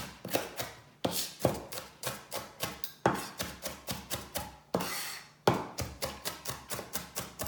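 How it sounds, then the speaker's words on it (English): Green onions get rough chopped with a knife on a board: quick runs of crisp, close thunks in uneven bursts, with no voices. "I'm just going to rough chop this."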